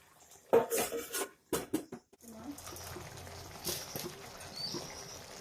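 A metal lid is set over a pot of pointed gourd cooking on the stove, giving several sharp clanks near the start before a soft, steady simmering hiss carries on quietly.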